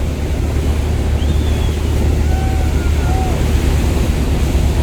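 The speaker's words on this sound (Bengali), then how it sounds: "পাশ দিয়ে একটি পুরনো লঞ্চ ওভারটেক করে যাচ্ছে" Passenger launches racing side by side on a river during an Eid trip, with an old launch overtaking, give a steady loud wash of water and wind rumble throughout, with faint whistle-like tones drifting over it.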